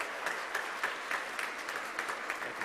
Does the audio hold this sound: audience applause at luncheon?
yes